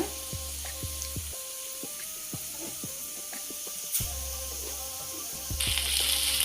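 Chicken 65 fried rice sizzles steadily in a hot pan, a constant close frying hiss broken by repeated clinks and scrapes of stirring, flaring briefly louder near the end.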